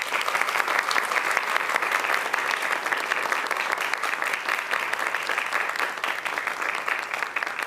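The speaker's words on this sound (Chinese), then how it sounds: "请现场的贵宾用热烈的掌声来为他们加油。" An audience at a Taiwanese vice-presidential debate applauds the candidates, a dense, continuous clapping from a crowd that stays loud and even for several seconds.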